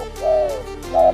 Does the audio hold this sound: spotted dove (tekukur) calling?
yes